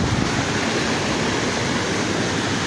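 Water rushes down a forest waterfall in a steady, dense roar with no breaks, close and loud, with no voices over it.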